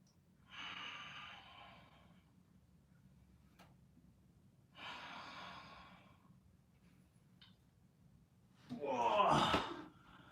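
Slow, deep breaths drawn during Shaolin kung fu leg training come in three separate breathy bursts at close range, and the last is the loudest, a forceful exhale over a faint low background.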